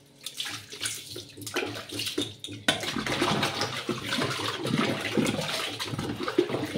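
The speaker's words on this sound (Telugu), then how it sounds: "మీ ముందే కడిగి చూపిస్తూ ఉన్నాను." Copper utensils rinsed clean under running water, with clinks and splashes at first, then a fuller, steady gush of water pouring over the metal, close by and fairly quiet.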